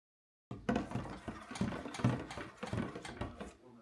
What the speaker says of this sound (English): So now we're going to use the stick blender a little bit.